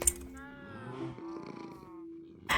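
Cat purring in the cozy video game Cozy Forever World, a soft rhythmic tonal purr lasting a couple of seconds, close and gentle, with game sounds at the start and end.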